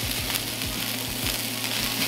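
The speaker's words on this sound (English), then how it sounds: "In go your bean sprouts" Bean sprouts sizzle steadily in a hot wok for mushroom chow mein, a continuous close frying hiss with faint rhythmic scraping of stirring underneath, no voices.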